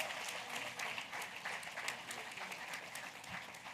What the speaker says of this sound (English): A huge round of applause for JP.